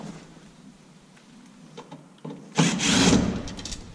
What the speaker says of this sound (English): And keep going, pulling screws.